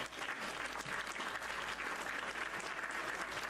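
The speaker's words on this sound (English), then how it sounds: "I have the applause." Dense, continuous applause sound effect played from a soundboard, steady and fairly loud throughout with no pauses.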